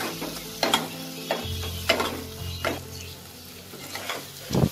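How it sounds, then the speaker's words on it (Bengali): Spice masala of coriander and red chilli powder being stirred and fried in a pan, with scraping spoon strokes and a steady low sizzle, a few louder clinks of the utensil against the pan. "মশলাটা আমার কষানো হয়ে গেছে"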